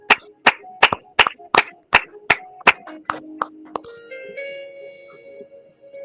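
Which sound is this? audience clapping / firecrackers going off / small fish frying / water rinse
audience clapping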